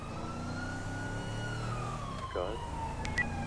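A police car siren from a video game wails steadily through the whole stretch at moderate volume, a long gliding tone beneath a constant low engine-like drone, with a brief chirp and a few sharp high blips near the end.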